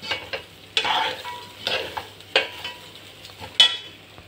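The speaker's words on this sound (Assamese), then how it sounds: "কাজু দি কেনে ধুনীয়াকৈ ভাজি লওঁ" Cashews and raisins fry in a pan for pulao, with soft oil sizzle and a few sharp, intermittent stirring scrapes spaced across the moment, fairly close and quiet.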